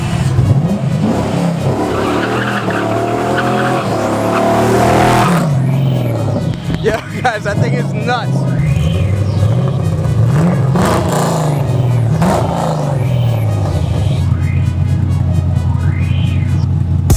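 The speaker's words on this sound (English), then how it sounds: "Listen to that LS rumble." A loud LS V8 engine swapped into a Honda S2000 rumbles and revs nearby, deep and throaty, while someone talks over it.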